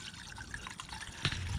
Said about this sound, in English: now we are just going to fill the system back up with straight distilled water